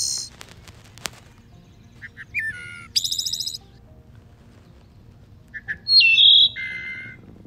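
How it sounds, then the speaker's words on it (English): A wood thrush sings in a forest: scattered, flute-like whistled phrases and a few sharper squawking notes, separated by quiet gaps over a low, steady background hum. "there's my favorite song, the wood thrush here"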